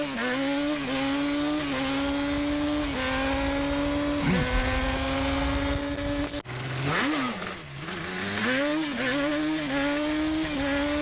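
A 1998 Yamaha Banshee ATV engine revs loud and close, its pitch climbing and dropping as it runs through the gears, ending in a fluctuating rev.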